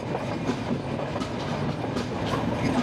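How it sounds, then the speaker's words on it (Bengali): Banalata Express train running on the rails on the nonstop Dhaka–Rajshahi service, entering Airport railway station. Steady rumbling clatter of wagons rolls on close and loud for about three seconds, with no voices. "বনলতা এক্সপ্রেস ট্রেনটি প্রবেশ করলো বিমানবন্দর রেলওয়ে স্টেশনে"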